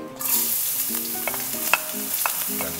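Garlic sautéing in a frying pan, sizzling steadily while being stirred, with repeated scraping and clinking of the utensil against the pan close up.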